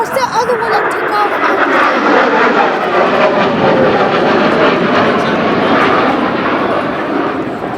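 A military aircraft takes off at the MCAS Cherry Point airshow, its loud, steady engine roar filling the whole stretch, close and continuous.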